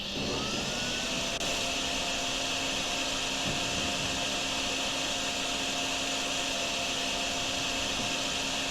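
A drain machine runs in the DrainSim video game with a steady, loud vacuum-cleaner-like roar and whine. The drone stays constant and unbroken throughout, with no voices over it.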